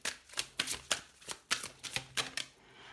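Tarot cards being shuffled and drawn, a rapid run of crisp riffling slaps and flicks in uneven bursts, close and fairly quiet with no talk.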